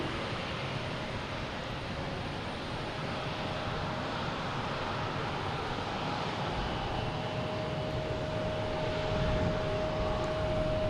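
A British Airways airliner taxis at Boston Logan Airport, its jet engines giving a continuous broad roar with a steady whine, fairly loud and unchanging at a moderate distance, with no voices.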